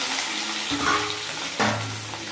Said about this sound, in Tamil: எல்லாத்தையும் கொட்டி வதக்குன்னு வதக்கலாம் மக்களே